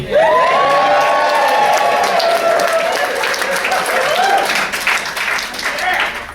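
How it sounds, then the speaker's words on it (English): Wedding guests cheer and clap loudly at a reception during a speech, a sustained crowd roar with whoops and shouting voices rising and falling across the room. "I'm going to need you to cheer again in just 2 seconds."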